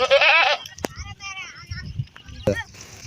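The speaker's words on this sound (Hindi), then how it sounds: "एक ये मक्खी चीनी बकरा खड़ा हुआ है।" A black Makhi Cheeni goat at a livestock sale bleats loudly twice, one long cry at the start and a shorter one later, with people talking quietly in the background.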